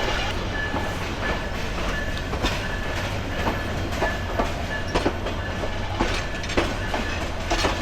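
Rangpur Express rolling into Santahar station platform at night, a continuous loud rumble with rhythmic clickety-clack of wheels over rail joints, heard from on board.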